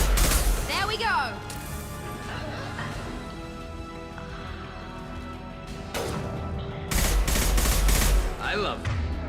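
Rifle gunfire in the sci-fi shooter Mass Effect 2 cracks out in repeated loud bursts over a dense, continuous game soundscape, with heavier volleys near the end.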